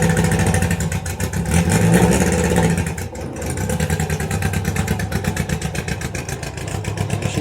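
A 1966 Austin Healey Sprite's engine pulls away on its first test drive, running loud and close with a rough, pulsing mid-pitched note, a brief dip, then steady throbbing as it moves off.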